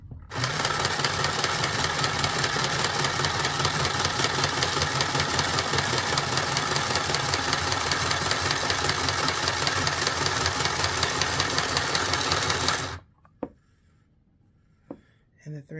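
A small, inexpensive serger sewing machine runs through fabric with a fast, steady mechanical chatter for about thirteen seconds, loud and close, then stops abruptly, leaving a few faint clicks and handling noises.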